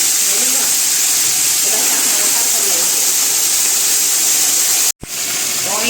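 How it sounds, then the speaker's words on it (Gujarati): Loud, steady hissing and spraying sizzle of spinach, aubergine, potato and carrot dropped into hot oil with asafoetida and green chillies for tempering, continuous for several seconds, with a brief cut near the end. "હવે આપણે વેજીટેબલનો વઘાર થઈ ગયો છે"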